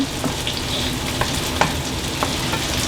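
Food fries gently in a pan on low heat, giving a soft, steady sizzle with faint pops and light scraping taps every half second or so.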